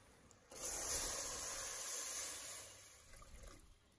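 Water is poured into a pan of palm sugar cooked down to a dark brown for stewed carp, giving a sudden loud hissing sizzle that gradually fades over a few seconds.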